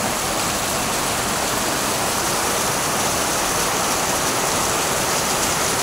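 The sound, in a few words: rushing overflowing floodwater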